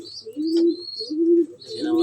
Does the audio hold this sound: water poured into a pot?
no